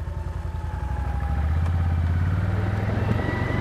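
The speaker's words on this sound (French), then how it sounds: "je vais rembobiner le treuil et accélérer pour soulager le treuil" Quad bike engaged in four-wheel drive revs up while its winch rewinds, a steady mid-pitched engine drone rising to a louder sustained whine, with faint clattering over it.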